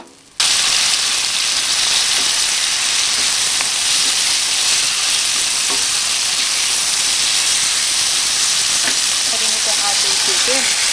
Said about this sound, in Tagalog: So, lalagay na natin yung ating pork.